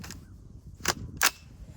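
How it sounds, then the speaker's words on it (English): Two sharp cracks of rifle fire at a steel target in quick succession, a distant shot followed by a louder one, over a faint low rumble. "I'm gonna try to get 2 shots off before you hear the first steel ring."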